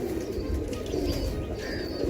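A light-coloured Heera Laal pigeon coos softly and continuously at close range, with faint chirps above the low murmur and no talking.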